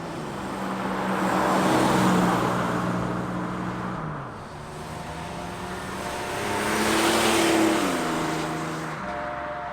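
A 1987 Buick Grand National T-Top is driven, its engine rising and falling through two swells of revving acceleration with steady road noise underneath.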